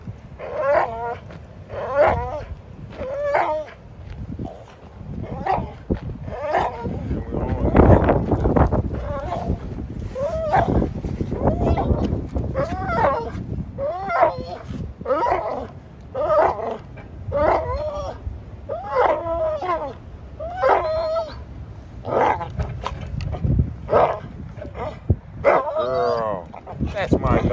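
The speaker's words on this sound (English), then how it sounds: "That's my dog." A pregnant dog plays tug outdoors, giving repeated yips, whimpers and playful growling barks in a steady series, with someone talking over it and wind buffeting the microphone.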